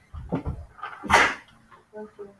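A single sharp sneeze bursts out in a classroom during a calculus test review, loud and abrupt amid low murmuring voices and shuffling noise.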